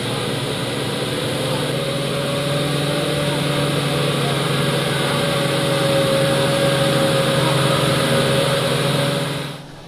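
Vehicle engines labouring along a bad road in Mpohor: a loud, continuous motor drone with a steady hum that holds for nearly ten seconds before cutting away at the end.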